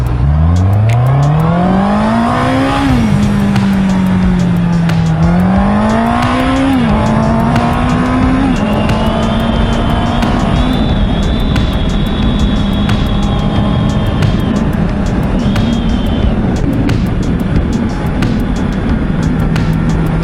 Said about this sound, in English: So later I'll be able to rev the bike a bit